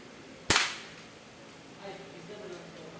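A single sharp shot from a K35 spring airsoft pistol cracks out loud and close at target practice, followed by faint small impact sounds.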